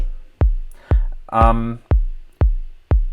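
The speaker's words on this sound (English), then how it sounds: "And this track is really just a kick." Five deep, punchy electronic kick thumps from a Digitakt drum machine at a steady beat, each with a sharp attack and quick decay, with a brief voiced sound between two of them.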